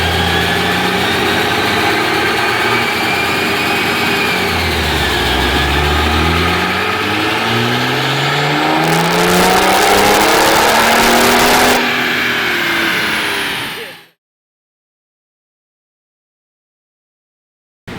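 Diesel BMW engine on a dyno, a loud continuous roar that climbs in pitch through a long pull and then cuts off abruptly into silence, with no talking.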